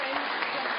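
A snooker crowd in the main arena at the South West Snooker Academy in Gloucester applauds steadily, a dense, even clatter of clapping throughout.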